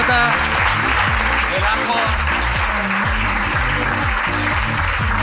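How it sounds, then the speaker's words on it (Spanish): Loud, dense audience applause on a comedy podcast recording, continuous throughout and mixed with music and a brief spoken remark. "Pues un aplauso"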